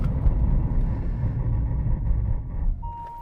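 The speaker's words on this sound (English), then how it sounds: "So let's do a brake test from 70 miles an hour" A 2021 Mercedes-AMG E63 S brakes hard from 70 mph. Loud, continuous low road and tyre rumble fills the moment and eases toward the end, where a steady electronic tone comes in.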